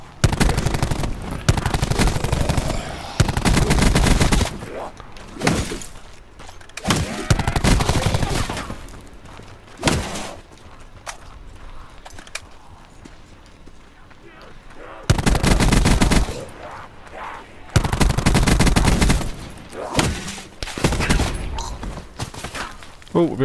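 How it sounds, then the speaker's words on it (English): Bursts of automatic gunfire in Call of Duty Black Ops 4 Blackout mode, loud rapid volleys in several clusters with quieter gaps between, some heavier thumping shots mixed in. "Oh, we're being fired at now by somebody."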